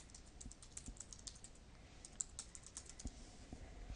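Quiet, rapid typing on a computer keyboard to log in to a teacher account, with a steady run of light clicking keystrokes heard close up and alone.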